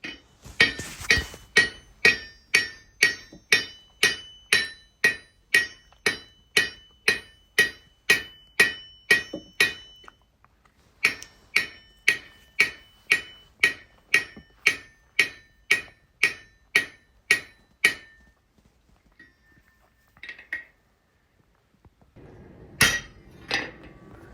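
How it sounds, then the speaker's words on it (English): Rapid, evenly spaced hammer blows ring out on a rivet in a forged scrolled iron sign bracket, two long runs of sharp metallic strikes separated by a short pause, followed by a few scattered taps and handling noise. "now I'm just trying to get the rivet set in the front"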